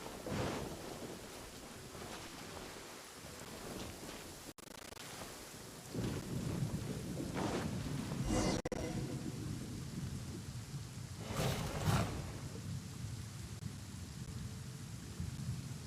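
Steady rain patters throughout a Raiden Shogun story quest in a video game, with rumbling thunder building midway and a louder crack and roll near the end.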